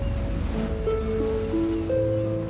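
Steady ocean wash and surf surround a sailing ship on the open sea, a continuous rushing roar with wind, overlaid by sustained tonal music.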